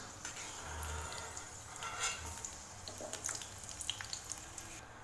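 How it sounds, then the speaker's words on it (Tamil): Cashews, raisins and almonds frying in ghee for a green moong dal laddu, giving a steady soft sizzle with faint clinks of a spoon against the pan, with no talk. "முந்திரி திராட்சை பாதாம் பருப்பு இது மூணுமே நல்லா நெய்யில் வரப்பட்டுருச்சு"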